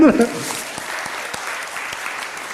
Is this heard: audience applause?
yes